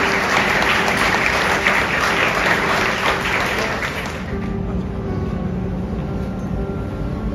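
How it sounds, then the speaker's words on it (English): A large audience at an MoU signing ceremony in Lucknow applauds, dense steady clapping that fills the room and then thins and eases after about four seconds, with no voices over it. "I think we should give a huge round of applause."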